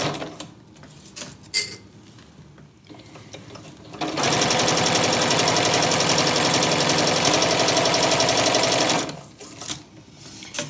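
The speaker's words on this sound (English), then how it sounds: "this isn't being sewn at a full quarter" A sewing machine stitching a vinyl project bag at a scant quarter-inch seam, a steady loud whirring run of about five seconds between quieter handling sounds before and after.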